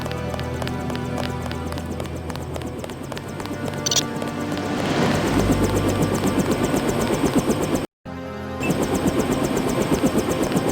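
A helicopter in the video game Deus Ex gives off a rhythmic rotor chop that swells louder midway, cuts out briefly in a moment of silence, then resumes at the same steady pulse, with other game sounds beneath it.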